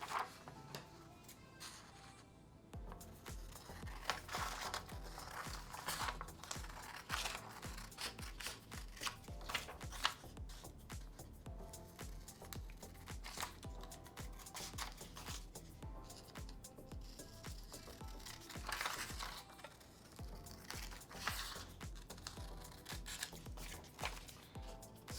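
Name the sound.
cutting out a paper rectangle for a zoetrope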